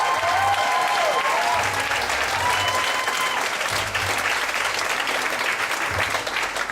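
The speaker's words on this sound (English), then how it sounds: "So a big clap for all the contestants tonight." Sustained applause from a poetry slam audience for the contestants, dense and steady throughout with a few whoops and cheers rising above the clapping.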